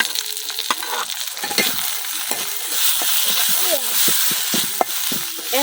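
Onions frying with ginger-garlic paste and chopped green chilies for a koi fish curry, a dense sizzle broken by scraping spatula strokes and light clatter, with faint voice traces underneath.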